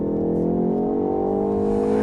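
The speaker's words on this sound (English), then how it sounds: "Engine feels to rev a bit stronger as well" A Ford Focus ST with manual gearbox revs hard on a race track, its engine droning loud and steady with a slowly climbing pitch, a continuous in-car roar without speech.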